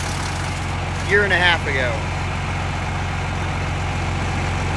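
Farm tractor idling with a steady low engine drone and constant mechanical hum throughout, while someone speaks briefly over it.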